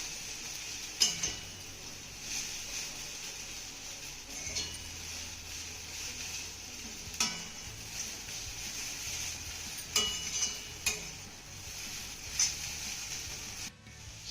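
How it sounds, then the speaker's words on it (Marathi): Rice-flour vermicelli sautéed in a pan with fried cashews and peanuts makes a soft continuous sizzle and scraping, with periodic clinks of a spoon against the pan as it is stirred over a steady background. "ही शेवई आपल्याला 2 ते 3 मिनिटं चांगली परतून घ्यायची आहे."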